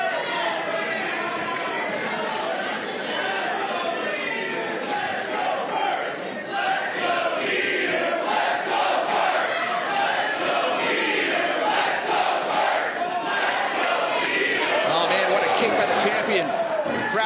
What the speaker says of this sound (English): Crowd really invested in this one.